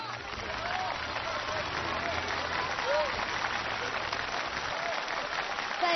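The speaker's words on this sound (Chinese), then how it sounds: "也把最热烈的掌声送给北京队" Warm, sustained applause fills a television studio as the audience claps for the Beijing team at a choir competition final, steady and loud for several seconds with faint crowd voices mixed in.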